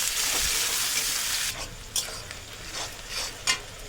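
Onions frying in a pan until browned for chicken biryani, a loud, even sizzle that thins out partway, then a few knocks and scrapes of stirring over a softer hiss.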